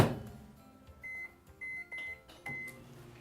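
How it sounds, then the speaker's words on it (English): A microwave oven running while melting chocolate, with a low steady hum behind a door thud at the start and several short electronic beeps from the keypad, heard close and without talking. "So let's pop this in the microwave."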